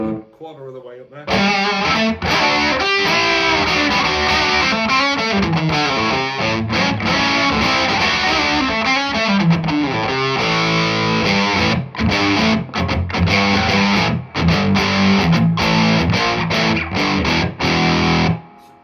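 Electric guitar played through a cheap $15 AliExpress overdrive pedal, loud crunchy rock chords and riffs starting after a brief quiet moment, with a treble boost dialed in.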